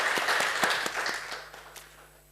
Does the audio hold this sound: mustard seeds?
no